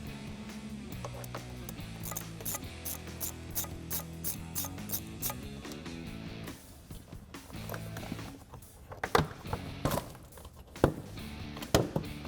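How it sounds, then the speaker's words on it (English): A ratchet wrench with an 8mm socket loosens the intake clamp on a 2016-2023 Camaro SS during a cold air intake install, giving repeated quick clicking bursts alongside background music, with sharper metallic clicks near the end. "loosen our clamp, and we can do that with an 8mm socket"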